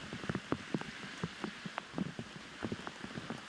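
Light rain falls outdoors at a disc golf tournament, a steady hiss dotted with close, irregular raindrop taps.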